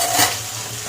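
Pabda fish fry in hot oil in a pan, giving a close, steady crackling sizzle with a brief louder burst near the start.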